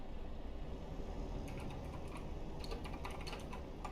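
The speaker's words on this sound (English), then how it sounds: "Sounds like angry typing." Fast, hard typing on a computer keyboard during an online truck-driving game session. A quiet patter of clicks rises out of steady background hum partway through.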